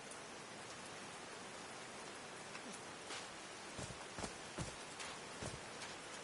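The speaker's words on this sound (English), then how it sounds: "These drops of rain are so refreshing" Rain falls in the video game Call of the Sea as a dense, steady hiss of rainfall, with a few heavier drops spattering nearby toward the end and no voices.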